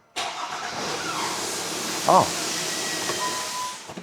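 A car engine with its exhaust pipes taped up abruptly starts and settles into a loud, hissy, rushing roar, with a brief squeak partway through, close and continuous.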